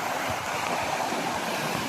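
Small river rapids tumbling near Bedham Falls in Malinao, a close, even rushing hiss of fast water that holds steady throughout with no voices.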